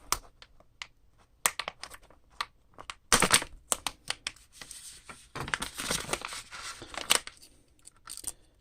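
Scissors cutting open a plastic packaging bag around a Choetech USB-C to USB-C 3.1 cable: close snips mixed with crinkling and rustling of plastic, with a denser burst of crackling handling partway through.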